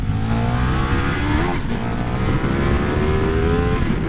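A KTM 1390 Super Duke motorcycle engine revs hard, pitch climbing and dropping through gears in a continuous loud, close roar, with a brief dip midway before rising again.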